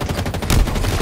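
A frag grenade in Halo Infinite detonates with a heavy, close burst over ongoing rapid gunfire in a loud firefight, with no talking during the blast.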